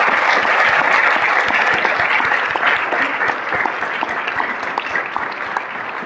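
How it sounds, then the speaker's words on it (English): Sustained applause from a sizable audience, loud and steady with dense clapping that tapers slightly toward the end. "Let's have another round of applause for our outstanding speakers."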